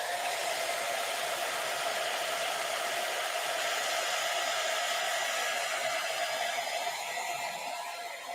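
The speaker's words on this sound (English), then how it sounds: "I'm going to use the hairdryer just to speed things up a little bit." A hair dryer runs steadily close by, blowing over wet paint on a painting in progress, a constant loud whooshing hum that holds level throughout and eases slightly at the very end.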